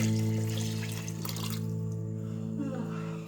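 Water poured into a pot for prawn biryani, a close splashing pour over the first second or so, then quieter liquid movement with a steady hum beneath.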